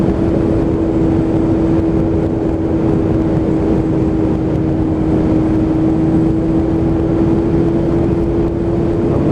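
A Kawasaki ZX7R motorcycle with an aftermarket exhaust can rumbles at a steady, low burble throughout, mixed with constant wind buffeting at riding speed on a cold, sunny Sunday run.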